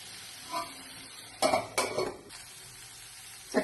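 A spoon stirs curry simmering in a pot, producing a few short scraping and clinking bursts separated by quiet stretches of low sizzle, close and moderately loud with no talking.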